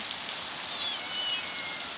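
A heavy downpour keeps up an even, dense roar of raindrops striking a surface, loud and unbroken for the whole stretch.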